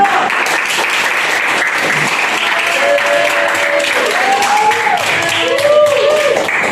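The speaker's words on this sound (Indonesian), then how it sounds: "Tepuk tangan kelompok 1." Classmates at a junior high school in East Jakarta applaud a student group after a math presentation, a steady close wash of clapping throughout with a few voices and faint talk mixed in.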